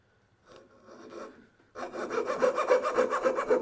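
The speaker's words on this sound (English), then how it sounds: "I'll remove that waste in a moment with the chisel." Hand tool working waste out of a wooden box joint, a faint scrape followed by a steady, rhythmic rasping rub repeated about a dozen times, close and alone.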